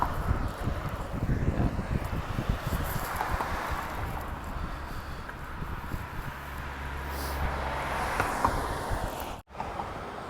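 Wind gusting along an outdoor street, a soft continuous rushing and buffeting against the microphone, fairly quiet with no one speaking.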